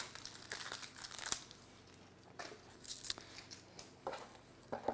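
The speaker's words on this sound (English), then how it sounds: "Peel the outer layer off." Papery onion skin crinkles and crackles as the dry outer layer is peeled away by hand during kitchen prep, in several close, irregular bursts with short pauses between.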